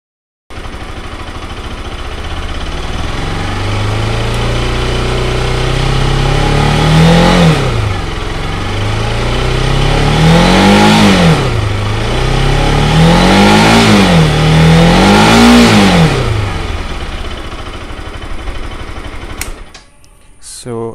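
A Bajaj Pulsar RS200 motorcycle engine, modified to reduce vibration, runs steadily and is revved several times in a row, pitch climbing and falling with each blip, loud and close, ending in clicks.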